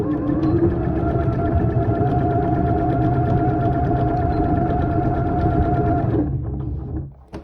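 A sewing machine stitches a fabric mask with a steady, rapid mechanical whir and chatter, close and loud for several seconds before stopping abruptly.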